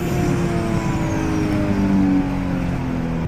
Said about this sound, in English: we'll warm up the tires here